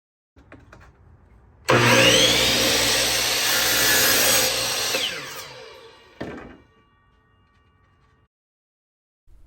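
A power saw cuts a shiplap board to length, whining loudly and steadily for about four seconds before winding down, with a short knock and clatter after.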